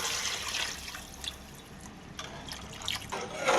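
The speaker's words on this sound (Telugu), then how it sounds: "ఇప్పుడు ఎసరు వేసుకుందాం." Water poured into a pot of rice for egg pulao, six glasses of water for three of rice, heard as faint intermittent splashing pours with a louder gush at the end.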